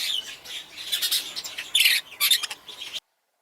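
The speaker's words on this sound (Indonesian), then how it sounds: "Yang nomor satu adalah jalak jambul emas." Harsh, raspy squawks and chattering calls of a golden-crested myna in quick bursts, loud and close, with no other sounds.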